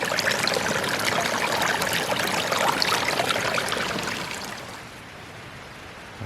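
Water trickles and pours steadily in an outdoor wilderness camp as it is collected for drinking, loud and continuous before tapering off to a softer flow near the end.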